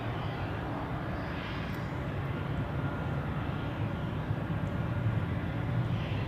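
An airliner departs or lands at Zurich Airport, a steady, fairly loud engine roar that holds evenly throughout with no voices over it.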